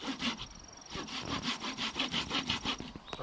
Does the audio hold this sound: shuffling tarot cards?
no